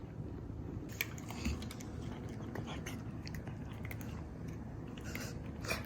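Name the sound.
pet chewing treats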